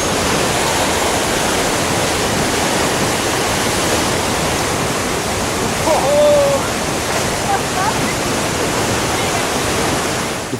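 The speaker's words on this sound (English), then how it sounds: "All sounds were drowned out by the roar of water and the rumble of stones." A flooding river roars as rushing water carries rumbling stones, a dense, loud, unbroken torrent filling the whole clip close up, with a faint brief voice barely audible beneath it.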